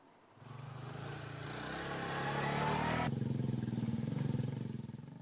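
A motorcycle engine runs close by, its low rumble building steadily, then shifting pitch as it revs and idles unevenly.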